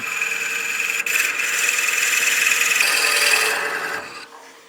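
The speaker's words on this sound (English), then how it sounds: "and then we can start advancing the bit" A Forstner bit bores into spinning wood on a lathe, a steady close grinding whir with a raspy cutting edge that holds for several seconds, broken by a brief knock near the start, then fades as the cut stops.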